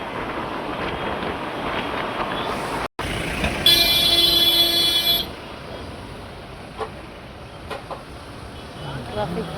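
Busy road traffic near Dadar, Mumbai, rumbles along under wind buffeting the microphone, while a car horn blares steadily for over a second midway, followed by fainter engine and tyre noise.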